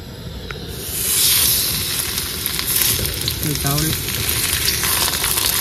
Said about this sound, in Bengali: বন্ধুরা তেল কিন্তু গরম হয়ে গেছে, এবার এক এক করে দিয়ে দেবো মাছ।